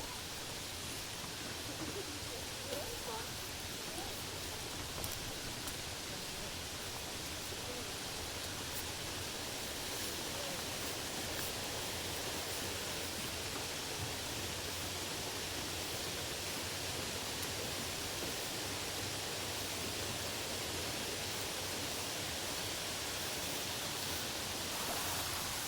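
Soapstone Creek, a forest stream near Seaside, Oregon, rushes steadily as a broad, even wash of flowing water, close and constant throughout with no voices.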